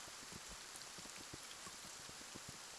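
Rain in the video game Kingdom Two Crowns, a faint, steady patter of drops on a surface with soft scattered taps, quiet and even throughout.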